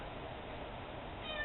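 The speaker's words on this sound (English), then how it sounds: "That's my cat." A pet cat meows close by, a steady vocal sound filling the short moment with no talk over it.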